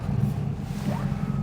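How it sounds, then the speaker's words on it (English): A Daimler 2.5 Litre classic V8 engine runs with a steady, close, low rumble that holds even and unbroken throughout. "we shall do the important business of starting the engine"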